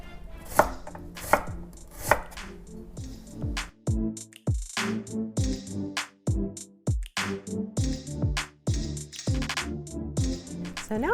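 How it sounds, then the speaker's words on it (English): A knife thinly slices half a red onion on a cutting board, with rapid crisp chops that come in quick bursts and are close and clear. No one speaks. "So I'm going to thinly slice 1/2 of a red onion."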